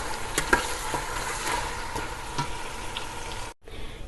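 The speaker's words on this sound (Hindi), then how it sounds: "ये देखिए ये कैरियाँ फ्राई हो रही हैं अभी।" Raw mango pieces frying in ghee crackle and sizzle steadily up close, with a few stirring scrapes, before the sound cuts off briefly near the end and then resumes.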